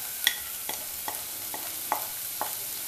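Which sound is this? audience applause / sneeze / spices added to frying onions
spices added to frying onions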